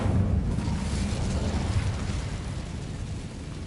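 The Incendio fire spell in Hogwarts Legacy gives off a short, loud whooshing roar that fades quickly.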